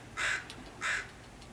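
A crow gives two loud, harsh caws about half a second apart, close by, against a faint background hiss with no voices.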